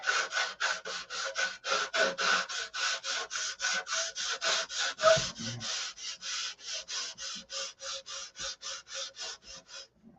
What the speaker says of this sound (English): Finish of the beamer is in the sanding.